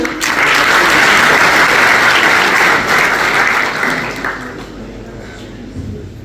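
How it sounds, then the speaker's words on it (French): An audience at a conference opening on artificial intelligence breaks into loud, full applause that peaks early and gradually fades over several seconds. "Vos applaudissements, s'il vous plaît."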